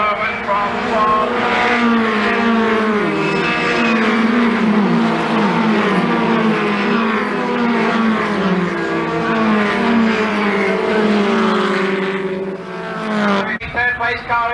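Race cars in a circuit race roar past in a sustained, loud engine drone with shifting pitch, while a commentator talks over the noise throughout.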